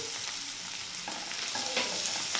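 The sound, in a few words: onions with turmeric stirred and fried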